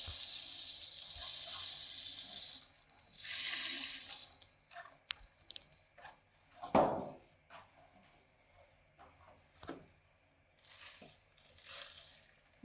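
Brewing grains stirred into mash water in a brewing vessel, bursts of pouring and rushing water alternating with wet sloshing, knocks and scrapes, close and uneven.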